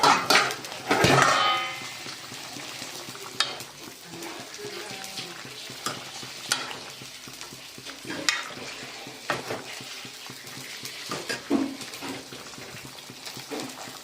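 Chicken being stirred in a kadai, a spatula scraping and clanking against the metal in irregular strokes over a steady frying sizzle, with a loud clatter at the start and close, distinct knocks throughout.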